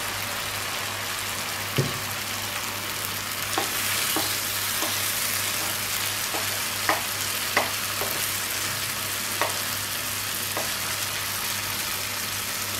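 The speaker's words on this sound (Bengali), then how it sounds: "মশলা কষানো হয়ে গেছে, এবার আমি চিংড়ি মাছগুলো এতে দিয়ে দেবো।" Prawns frying in spiced masala for Bengali malai curry, a steady broadband sizzle throughout with scattered sharp clicks and spatula taps against the pan, close and fairly loud, no talking.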